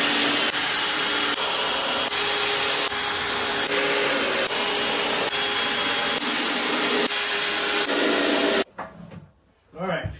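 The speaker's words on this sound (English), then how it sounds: "we're gonna go ahead and attach all these boards down with the 2-inchers" A power drill drives 2-inch triple coated screws into boards of a wooden shooting bench with a loud continuous whirring buzz broken by brief pauses, then stops, followed by a few seconds of quieter handling sounds.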